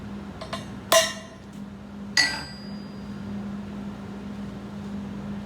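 A ball peen hammer strikes a steel centering head set on a pipe during pipe welding layout, giving two sharp metallic taps about a second apart over a steady low hum, with faint clicks before the first strike.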